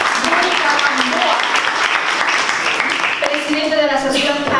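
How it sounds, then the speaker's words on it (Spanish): An audience at a cultural association event applauds with dense, sustained clapping, loud and close, while voices talk and call out over it. "Vamos a recibirle con un fuerte aplauso"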